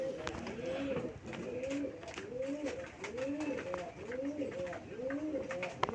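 Pigeons at a breeding farm coo in a steady repeating rhythm, several soft rolling calls following one another close by, with light background rustle throughout.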